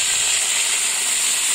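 A loud, steady hiss of water poured into hot frying oil with vedailota greens and crushed garlic in a pan, continuous and close throughout.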